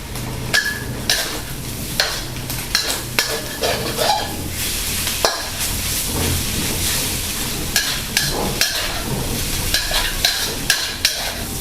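Instant noodles with soy sauce, sugar and ground pepper are stir-fried in a pan: a spatula scrapes and knocks in a steady, repeated rhythm over a continuous close sizzle.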